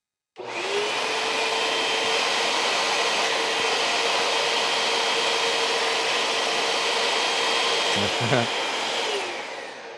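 A Hoover Elite Rewind Plus vacuum cleaner motor switches on and runs with a steady, loud whooshing whine, close by, then begins to wind down at the end.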